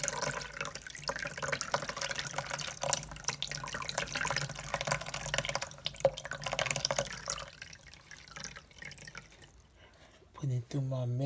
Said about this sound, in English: Put it through my mesh strainer.